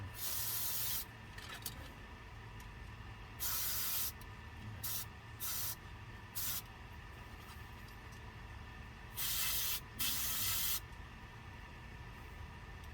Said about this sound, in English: I'm going to choose to spray it this time.